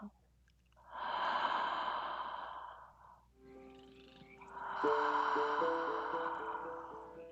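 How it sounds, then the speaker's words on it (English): A slow, deep inhale through the open mouth during a breathwork session, heard twice, each breath a long raspy, slightly croaky draw lasting a couple of seconds, close to the microphone with no talking. "take that first inhale through the mouth"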